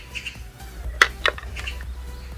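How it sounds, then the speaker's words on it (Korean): Birds chirping near a workbench where a plastic case is being machined for a mini power supply, with two short, bright bursts of song close together over a low steady hum. "새들이 지금 너무 노래를 하고 있군요."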